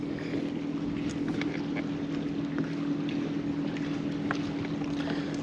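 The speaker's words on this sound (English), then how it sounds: "Wind's kind of picking up" Steady wind rushes over open water around a fishing boat, a constant low roar with a faint drone underneath and small knocks and splashes, with no talking.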